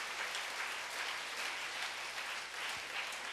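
Congregation applause during a Wednesday church service, a continuous even clapping from many hands that sounds fairly close and carries on without any speech over it.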